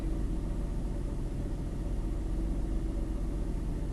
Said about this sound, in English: that's idle right there, with my foot on the brake while it's still in drive